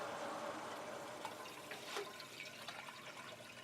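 Water flows steadily into a GrowoniX GX1000 reverse osmosis system once the pressure is turned on, a continuous moderate hiss and rush of liquid with a few faint clicks over the top.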